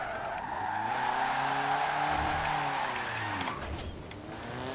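Toyota Celica GT with its stock engine in Forza Horizon 4, engine revving and shifting close up while tires squeal and skid through a turn, loud and continuous.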